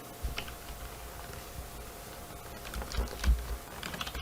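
Typing on a computer keyboard produces soft, irregular key clicks and taps, close but quiet under a faint steady room hiss, with no talking.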